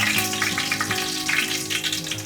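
A teaspoon of mustard seeds hits heated cooking oil in a pan, giving a steady, loud, close sizzle that hisses continuously for a couple of seconds, with no talking.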